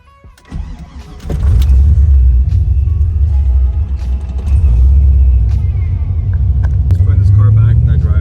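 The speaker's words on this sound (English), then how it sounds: "Just putting this car back in the driveway." Car with a bash bar fitted and no front bumper, started and then idling and rolling into a driveway, its engine rumbling loud and steady close by after a short cranking start.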